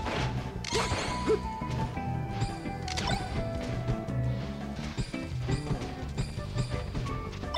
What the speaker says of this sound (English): I hate the sound of 500 kicks